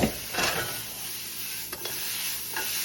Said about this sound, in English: We're going to dump those vegetables in first. Give them a little toss.